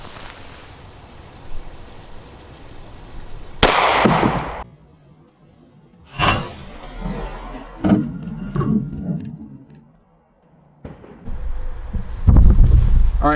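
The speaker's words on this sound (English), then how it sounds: "my everyday carry, the P226 Legion. And it's straight FMJ." A SIG P226 Legion pistol loaded with full metal jacket rounds fires a handful of widely spaced, sharp reports outdoors, with wind rumbling against the microphone between the shots.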